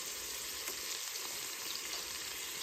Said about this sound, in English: the chicken has been cooking about 5 minutes.